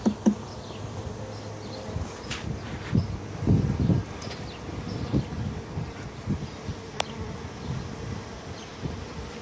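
Bees buzz around an opened hive with comb built on the outside, a dense, steady hum close by with individual bees droning past, and no talk.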